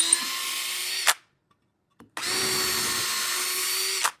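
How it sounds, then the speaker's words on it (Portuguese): Electric drill boring pilot holes into wood with a thin bit, two loud sustained whirring bursts separated by a short silence, each ending in a sharp spike as the bit stops or breaks through. "eu venho fazendo a marcação e a furação na madeira"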